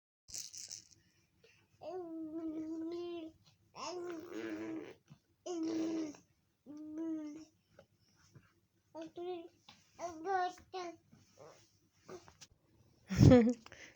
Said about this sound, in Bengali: কি ভাবছেন হঠাৎ করে বাচ্চা শব্দ আসলো কিভাবে?